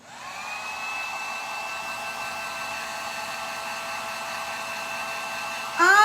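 A hair dryer blasts steadily and loudly on a faux rusted Christmas tree with a shabby chic finish, its whine holding constant with no talk, then briefly shifting pitch near the end.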